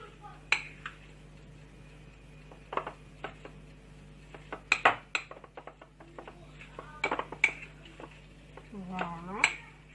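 A spoon scrapes and clinks around a bowl as tuna and chopped olive filling is mixed for Tunisian fricassé, with irregular bursts of clatter and light knocks, close and fairly quiet, with a faint bit of talk near the end.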